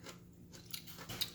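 Quiet, close-up crunching bites and chewing of a blanched vegetable salad, a few crisp crunches spaced over about a second.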